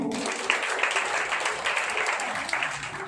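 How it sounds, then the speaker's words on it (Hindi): A room of people claps for Hiraman at a family gathering, a dense steady patter of hands lasting a few seconds with no voices over it. "चलो हिरामन के लिए ताली बजाय"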